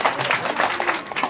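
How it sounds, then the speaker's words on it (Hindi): A short burst of applause for award recipients at a ceremony in Lucknow, with a few pulsing waves of clapping from the audience. "तालियां होनी चाहिए"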